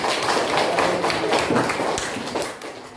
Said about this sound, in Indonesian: Tepuk tangan untuk seluruhnya.